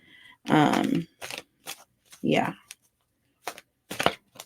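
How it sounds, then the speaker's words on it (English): A deck of tarot cards is shuffled close by in short, crisp riffling bursts with pauses between them, and a voice speaks briefly among them. "under the deck, we just shuffled"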